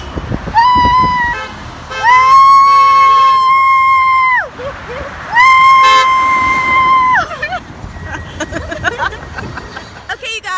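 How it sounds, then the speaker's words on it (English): Vehicle horns honk in repeated long blasts, loud and close, with shorter toots and a murmur of voices and traffic between them. "They're still honking, you guys. They are still honking."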